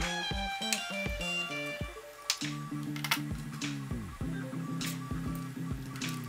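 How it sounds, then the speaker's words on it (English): A machine hums with a steady drone while stepper motors whine and shift pitch in quick patterns, with occasional clicks and ticks. "My 3D printer is running in the background, as you can hear, of course."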